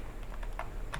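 Java code is tapped out on a computer keyboard: a short, close burst of quick, uneven key clicks, a few strokes clustered together, with no talking.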